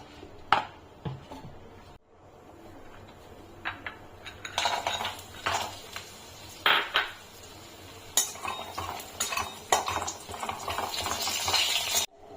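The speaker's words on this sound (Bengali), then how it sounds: "প্রথমে শুকনো কড়াইতে কিছুটা পোস্ত ভেজে নেব" Metal scraping and clinking as poppy seeds dry-roast in a pan, with irregular stirring scrapes and light rattles over a quiet background, no one talking.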